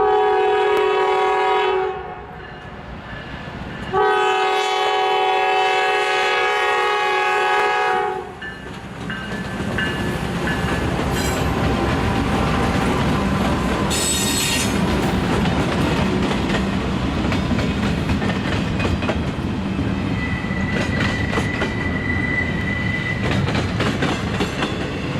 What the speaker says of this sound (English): Train 22K is a Chicago to Ayer, Massachusetts intermodal train that runs the Chicago line